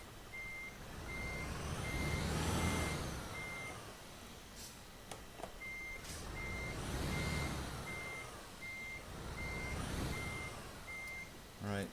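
Truck reversing alarm in Euro Truck Simulator 2, a Mercedes Actros with trailer: steady evenly spaced beeps over a rumbling diesel engine that swells and fades, with a couple of hiss-like air brake releases in between.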